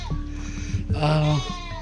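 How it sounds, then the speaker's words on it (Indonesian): Goats bleat on a village livestock farm in rural Java, a loud wavering animal call near the middle of the clip, with farm background and faint human voices around it. "memelihara ternak kambing seperti ini"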